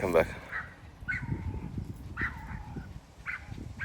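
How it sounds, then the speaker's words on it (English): Dogs bark a few times at a distance while people talk nearby. "And then there's doggies barking up there."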